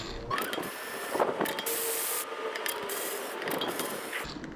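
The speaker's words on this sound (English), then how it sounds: "so let's take out the bolts." Brake rotor bolts are loosened and removed from a retro mountain bike rear wheel, with close, quiet ratcheting, rasping and scraping mechanical sounds in irregular bursts and no voices.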